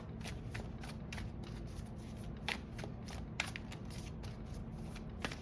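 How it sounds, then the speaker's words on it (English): Tarot cards being shuffled by hand in a steady run of soft riffling flicks, with occasional sharper card snaps, close and fairly quiet over a low background hum. "Let's pull some tarot."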